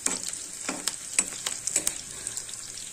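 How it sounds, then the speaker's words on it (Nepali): Chopped onion and garlic fry in a pan, a steady close sizzle broken by scattered clicks and scrapes as the mixture is stirred, with no voices. "त्यसैगरी चप गरेको प्याजलाई पनि यसैमा राखेँ। यो राखिसकेपछि पनि यसरी केही समय फ्राई गर्नुपर्छ।"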